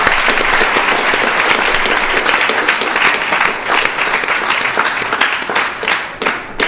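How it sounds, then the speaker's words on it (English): Sustained audience applause fills the room after a spiritual class at an ISKCON temple festival in Phoenix, steady and dense throughout with a slight easing near the end. "Please give a big round of applause to Maharaj for a wonderful class"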